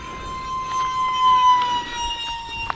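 A UMX Citation Longitude RC jet with a 30mm brushless ducted fan makes a full-throttle pass outdoors, a thin steady whine that swells and fades gently at moderate distance.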